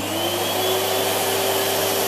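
Numatic HVR200-12 Henry 620-watt vacuum cleaner running on a carpet setting, a steady, even whirring roar with a constant hiss, close and uninterrupted.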